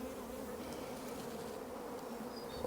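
Honey bees from a dark Carniolan colony hum steadily and densely inside an open hive, a close, continuous buzz with no pauses.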